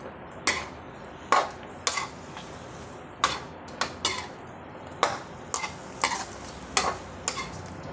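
A utensil stirs chicken legs in vinegar in a pot of adobo, scraping and knocking against the pot in about a dozen sharp, irregular strokes over a faint background simmer.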